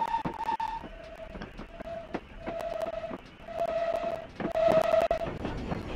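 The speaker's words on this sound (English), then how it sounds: "there's a train coming into the station" A train horn sounds in repeated tonal blasts, growing louder and longer, over a rumbling background as a train approaches a station on the Falmouth branch line, heard from an auto coach.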